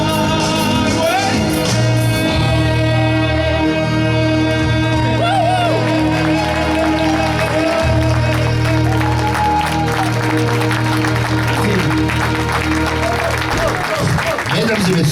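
A concert crowd claps and cheers after a live song by a singer in Velaine-sur-Sambre, a loud, sustained wash of applause with whoops and shouts mixed with lingering music and a voice over it.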